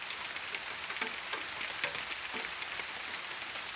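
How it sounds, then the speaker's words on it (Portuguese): Rain falling outdoors, a soft continuous patter with scattered faint drop ticks, fairly quiet and steady with no voices. "A chuva tá caindo."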